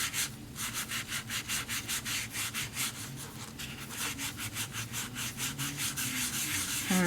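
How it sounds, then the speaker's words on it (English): Green rouge polish being rubbed into leather by hand, a steady back-and-forth scrubbing with rapid regular strokes, close and fairly loud, heard alone. "I'm supposed to be polishing this in, rubbing it in"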